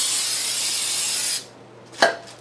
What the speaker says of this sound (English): That way I can just go ahead and spray it and clean off